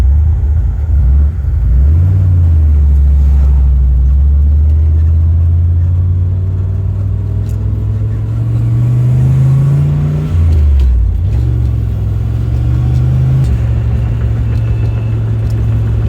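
A turbocharged 1979 Ford Fairmont wagon engine settles from a rough idle into steady running. Its deep, close rumble rises and falls as the revs swing up and back down several times, with no voices over it.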